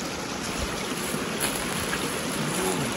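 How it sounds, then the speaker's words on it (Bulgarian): A small mountain stream flows steadily nearby, a continuous broadband rush and trickle of water with no speech. "това поточе е по-малко"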